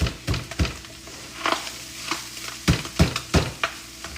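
Slightly frozen sausage is chopped and stirred in a sizzling pan for lasagna soup, with sharp scraping chops landing irregularly over a constant close frying hiss.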